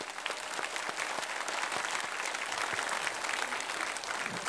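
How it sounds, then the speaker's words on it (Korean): A church congregation applauds during a Sunday sign-language worship service, a steady, even burst of clapping from many hands that carries on for several seconds. "박수로 축하합시다."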